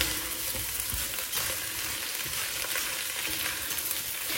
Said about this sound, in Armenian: այս բոլորը լավ խառնում ենք